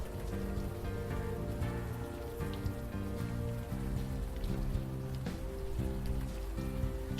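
Steady rain falls in the Brooklyn scene of the video game Unavowed, a soft continuous patter beneath quiet tonal music with a repeating low melodic pattern, faint and even throughout.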